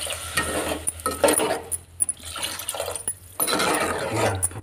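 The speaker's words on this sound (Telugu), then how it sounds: "తగినన్ని నీళ్ళు పోసుకోవాలి" Water is poured into dal curry simmering in a pot at home, giving splashing, bubbling and sizzling bursts. The sound is close and uneven, rising and dropping in waves with brief pauses.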